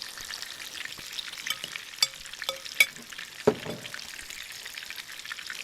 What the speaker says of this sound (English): Sizzle, sizzle, sizzle.